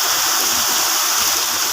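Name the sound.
heavy rain, water pouring from roof pipe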